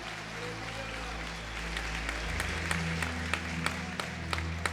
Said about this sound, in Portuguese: Dá o seu melhor aplauso ao Senhor.